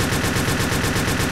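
Continuous rapid gunfire from a weapon in the blocky shooter Ace of Spades, a dense, loud, evenly pulsing stream of shots filling the whole moment with no talk.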